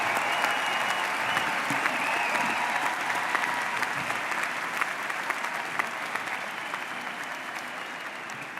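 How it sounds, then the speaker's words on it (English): A large crowd applauds master's and specialist graduates at a university spring commencement ceremony, steady, full-room clapping that holds at an even level and tapers slightly toward the end, heard at some distance without speech. "Please give a round of applause to the Masters and Specialist graduates."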